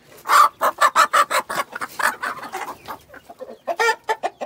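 Roosters and hens in an Indian-breed chicken coop cluck in a fast run of loud, close, repeated calls, then trail off into softer clucks before a final burst.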